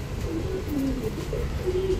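A Black Mamba pigeon, all black down to its feet, beak and eyes, coos softly in a few low, wavering notes close by, with a steady murmur of background noise and no talking.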